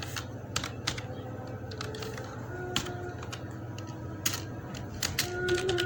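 Keys clack on a computer keyboard while a document is being formatted, with irregular sharp taps spread over a steady low room hum and no talking.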